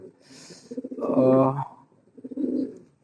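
Pigeons coo nearby in soft, throaty, pulsing bouts, with one louder rolling call in the middle and another quieter coo at the end.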